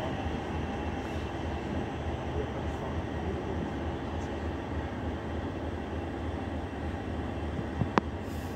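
Continuous low rumble of trains at Finsbury Park station, an LNER Azuma Class 801 and a Thameslink Class 700, steady throughout with a brief sharp squeal near the end.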